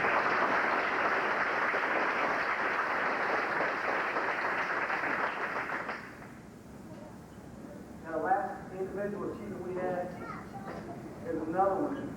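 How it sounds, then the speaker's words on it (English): Audience applause fills a soccer awards banquet hall for several seconds, steady and broad, then fades out and gives way to a person talking. "Give another round of applause."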